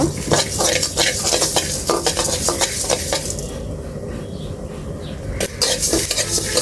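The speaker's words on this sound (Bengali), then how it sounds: "ভালোভাবে ভেজে নিচ্ছি" Panch phoron, cumin and coriander seeds sizzle in a pan for a mango pickle, with rapid crackling and repeated scrapes of a spoon stirring close by, and the hiss easing slightly toward the end.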